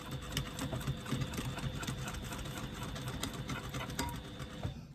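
A sewing machine stitches the lining of a retro clutch bag, a fast continuous mechanical chatter with rapid needle ticks running steadily and close throughout.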